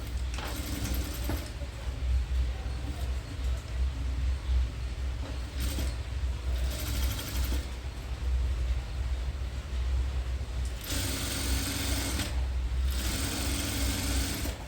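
A sewing machine stitches the loop on a full frill long dress, running in several separate bursts of steady mechanical whirring with short pauses between runs, close and moderately loud.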